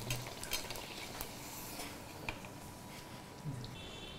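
Puri frying in hot oil, a soft continuous sizzle with a few faint scrapes and clinks of a utensil in the pan, close and quiet, with no voices.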